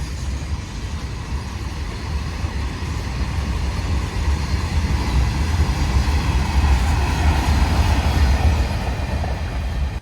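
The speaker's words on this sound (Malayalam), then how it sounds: "ഗുഡ്സ് ട്രെയിനുകൾ തീരുന്നില്ല ഗൈസ്. ഇതിങ്ങനെ വാലെ പോയിക്കൊണ്ടിരിക്കുക." A long diesel-hauled goods train rolls steadily past a trackside spot at Suravali, Goa, its deep engine drone and continuous wagon rumble filling the scene with faint clickety-clack, loud and unbroken throughout.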